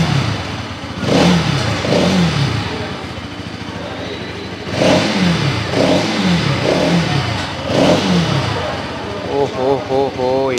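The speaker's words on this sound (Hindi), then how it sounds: "NS200 का जो साउंड है ना, मतलब कान को जो है सुकून मिलता है इसका साउंड सुन के।" A Bajaj Pulsar NS200 motorcycle engine is started and revved, several rising and falling throttle blips over a steady idle, loud and close with no talk over it.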